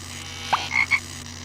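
A frog croaks in the video game Discworld Noir, giving two or three short, clear croaks in quick succession over a steady low background hum.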